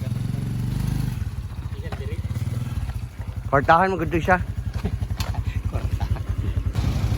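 A motorcycle engine idles with a steady, rapid putter, close and continuous, as a rider sets off toward the highway, with a brief spoken phrase partway through.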